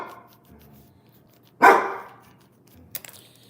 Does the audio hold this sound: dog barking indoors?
yes